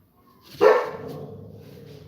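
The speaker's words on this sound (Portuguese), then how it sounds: "A gente só tem 4 cãezinhos, tá? Então, latidos vão ocorrer." A single dog bark rings out at moderate distance indoors, one sharp yelp-like bark with a short trailing tail, otherwise quiet.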